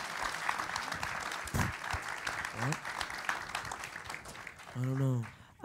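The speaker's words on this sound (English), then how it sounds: "Another round of applause." Applause from the audience at a panel discussion, steady clapping throughout with voices cutting in over it at points and a voice near the end.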